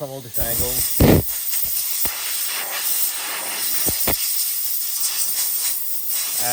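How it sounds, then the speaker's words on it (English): Compressed air from a compressor blasts in a loud, continuous hiss with short bursts and pulses as it is aimed from different angles to clear a blocked Dyson V15 cordless vacuum airway, while a person talks briefly over it. "You're just blowing it from all different angles"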